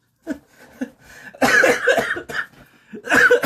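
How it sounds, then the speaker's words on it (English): A man coughs several times in quick bursts, close and fairly loud, with a couple of lighter coughs before a heavier fit. "I'm even coughing"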